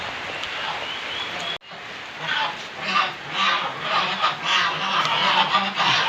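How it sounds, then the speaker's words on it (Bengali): Farm turkeys and chickens calling together during rain, a dense overlapping chorus of honks and clucks that briefly drops out, then returns loud and busy with steady rain noise underneath. "ওই খামারে আছে আমার টার্কি মুরগিগুলা"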